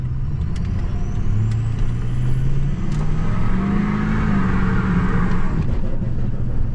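A 6.0 pickup truck power braking into a corner and spinning its tires makes a loud, close, continuous engine drone with rising and falling pitch, plus a hissing tire-spin roar over it.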